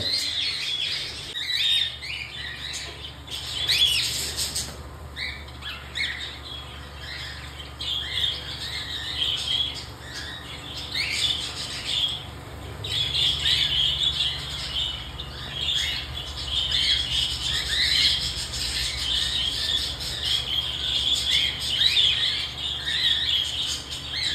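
Cockatiels of rare colour mutations, including a white-face bird, chirp and squawk in steady, overlapping high calls throughout, fairly close and continuous, with no talk over them.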